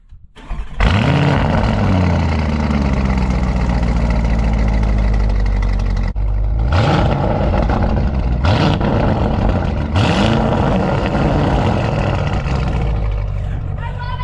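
A 650 hp Lamborghini SUV with a Fabspeed aftermarket exhaust fires up with a sharp roar, then revs repeatedly in loud bursts over a rumbling idle, with a voice briefly in the mix.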